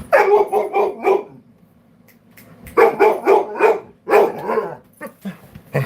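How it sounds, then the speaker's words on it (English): Dog barking in a home during play with a toy, a quick burst of several loud close barks, a pause, then two more runs of barking with a few short yips at the end. "And you're a dog."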